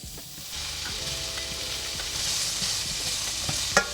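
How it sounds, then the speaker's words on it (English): Tofu cooks in a pan with a steady close sizzle, punctuated by faint scrapes and light knocks of a utensil, ending with a sharper clack. "I'm going to cook some tofu."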